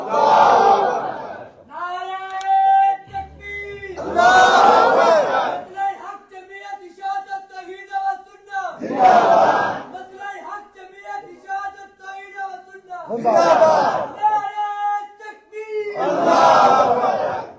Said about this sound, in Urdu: نعرے تکبیر، توحیدی نعرہ برملا، حاجت روا مشکل کشا، نعرے تکبیر